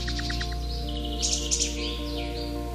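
Young owls calling from branches in a forest: a steady run of high, thin chirping calls, with a few louder, sharper notes in the middle, over a constant low hum.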